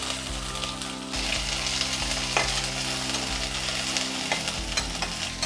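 Onions frying in oil with cumin and dals in a pan for Bombay chutney, a loud continuous sizzle with crackling and a few stirring scrapes, close up and without talk.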